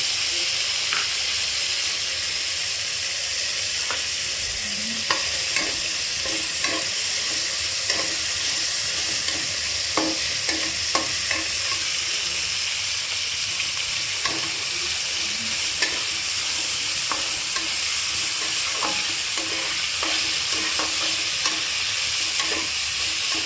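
Banana stem and moong dal fry in oil, giving a loud, steady hissing sizzle throughout, with faint scraping stirs ticking through at irregular intervals.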